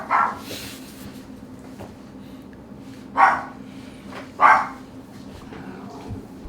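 Uni, a pet dog, lets out a few separate barks indoors, one early burst and then two sharp single barks a second apart, fairly close over a faint steady hum.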